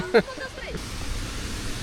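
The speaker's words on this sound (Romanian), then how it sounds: "Aici la cascada urlătoare." Rushing water from the Urlătoarea waterfall near Predeal in the mountains makes a steady, dense roar. A brief voice is heard at the very start, then the flowing water continues on its own.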